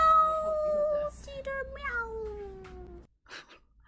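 A human voice imitates a cat's meow in a drawn-out, falling, whiny call, then a shorter second yowl, with a few soft breathy sounds after it.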